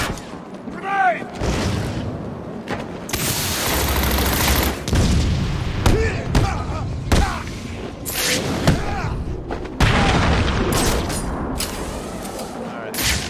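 Gunfire bursts and booming explosions, including a grenade blast, in the Batman Arkham City video game, with loud repeated shots and bangs over a dense game mix and voices talking and shouting throughout.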